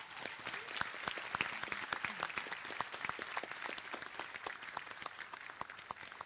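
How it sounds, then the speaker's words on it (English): A hall of guests applauding graduates at the Seychelles Business Studies Academy graduation ceremony, dense continuous clapping with sharp individual claps throughout, somewhat distant and with no speech. "Please give all the graduates a round of applause."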